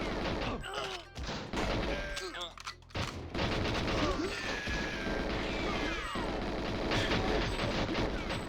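Gunfire and crashing impacts from the N64 game GoldenEye 007, dense bursts and thuds running throughout with game music and effects layered underneath.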